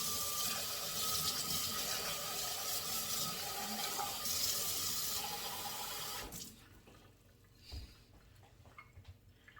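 Water pours steadily into a pot of 15-bean soup for about six seconds, a loud broad rush like a running tap, then cuts off, leaving quiet clinks and small handling noises.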